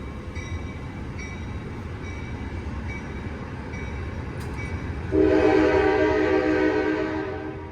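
An Amtrak train passing in California, Oakland area: a rumble of rail cars throughout, then a loud, sustained horn blast with strong harmonic tones enters partway and holds to the end, close by.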